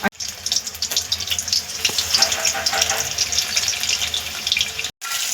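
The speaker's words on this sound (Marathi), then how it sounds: "आपलं तेलही व्यवस्थित गरम झालेलं आहे आपण हे तेलामध्ये सोडून घेऊया" Bombil fish fritters sizzle and crackle in hot oil, a close, dense hiss with scattered pops that runs continuously and breaks off briefly near the end.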